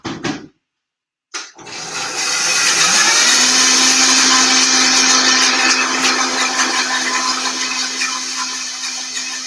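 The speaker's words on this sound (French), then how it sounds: "Alors, je vais faire mixer ça." A blender whirs loud and steady for several seconds, blending cooked cauliflower into a smooth cream, after a brief opening clunk and a moment of silence.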